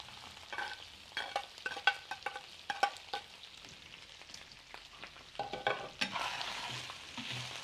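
Onion and garlic frying together with pork ribs in a pan: a soft, steady sizzle broken by repeated scraping stir strokes, with no voices.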